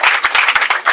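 A room audience claps for a guest speaker at a training ceremony on governance and leadership, with brisk, dense hand claps packed together in a short, loud burst.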